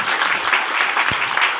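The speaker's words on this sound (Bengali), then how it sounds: "যারা যারা আপনাদেরকে ইনভাইট করেছে তাদের জন্য একবার জোরদার হাততালি চাই" Applause from an audience at a gathering, a steady dense clatter of many hands clapping close by throughout, without speech.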